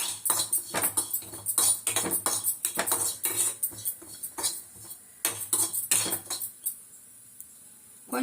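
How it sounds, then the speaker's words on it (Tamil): Dry ginger roasting in a kadai, stirred with a metal spoon, gives repeated sharp scrapes and clinks in quick bursts. The bursts come close and loud and then fade to a quiet stretch near the end. "கடாய் போட்டு சுக்கை இது பாருங்க, சுக்கை கொஞ்சம் லேசாக வறுத்துக்கலாம்."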